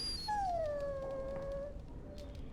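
A dog in the video game Dragon Age: Origins lets out a single long, thin whimpering whine that slides downward, heard alone over a dull game ambience.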